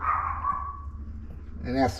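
A dog barks a few times in the background, sharp and somewhat distant, while a person talks nearby.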